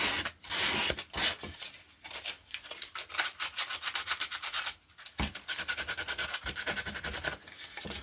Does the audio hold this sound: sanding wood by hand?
yes